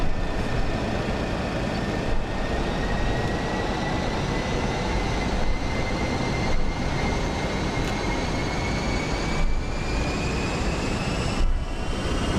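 Airliner engines at takeoff power in Microsoft Flight Simulator 2024, a loud, steady roar with a high turbine whine slowly rising in pitch over the full length of the takeoff roll.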